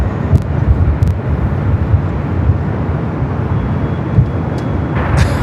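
Airliner noise at Los Angeles LAX airport, a steady broadband jet roar with a deep rumble filling the whole stretch, continuous and fairly loud with no voices.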